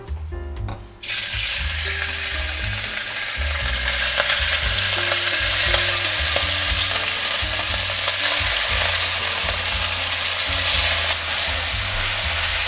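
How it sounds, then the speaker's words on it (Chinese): Pork shoulder hits three tablespoons of hot oil in a wok and stir-fries with a loud, steady sizzle that starts after a brief pause and continues unbroken, with no voices over it. "我们开始要炒肉了"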